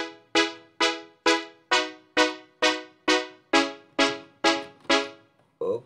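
Funky synth rhythm preset in a Dance Piano style, struck as a steady run of about eleven bright, evenly spaced stabs that each decay quickly, loud and close, with a short different note at the end.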